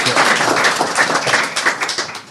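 Brief, loud applause from a congress audience greets guest speaker Feras Hatib at a perioperative medicine event, many hands clapping together in a dense burst lasting a couple of seconds.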